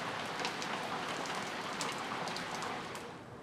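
Even, moderate rainfall from Hurricane Isaac's remnants over St. Louis hisses continuously with scattered close droplet taps, easing slightly in level toward the end, no talking.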